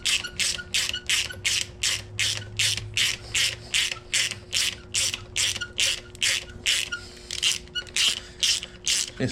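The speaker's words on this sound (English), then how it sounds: "So I'm just gonna snug these down real lightly." A hand ratchet clicks in a quick, regular series of about twenty strokes while snugging head studs down lightly on a Honda D15B engine, close-up and alone with no talk.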